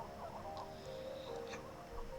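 Chickens cluck in the farm game Slime Rancher 2, a few short soft calls over a steady hum of game music and ambience, with no talking.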